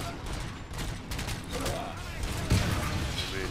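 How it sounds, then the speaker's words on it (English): Rapid gunfire from a gunfight in Robocop Rogue City, a steady run of sharp shots under a busy game mix with a heavier thump near the end. "Mean gunfight"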